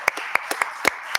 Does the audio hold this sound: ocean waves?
no